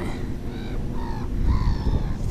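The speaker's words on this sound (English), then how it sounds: "birds over there scrapping" Several birds squabbling and cawing over there, harsh overlapping caws in irregular bursts at moderate distance over a low rumbling background.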